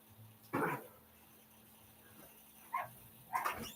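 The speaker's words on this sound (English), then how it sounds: "Do I have a puppy dog who's gonna keep barking?" A dog barks in a few sharp separate bursts indoors, spaced out with quiet gaps between them.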